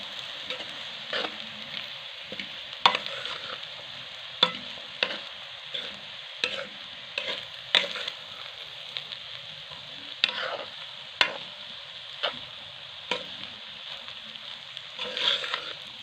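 Vegetable and egg fried rice with onion and black pepper being stir-fried in a pan, a steady sizzle broken by repeated scraping spatula strokes at an irregular rhythm, close and fairly loud, with no talking.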